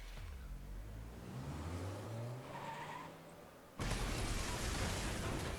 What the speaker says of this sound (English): The truck crashes into the car and flees in panic.